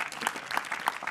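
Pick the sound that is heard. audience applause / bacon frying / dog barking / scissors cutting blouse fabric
audience applause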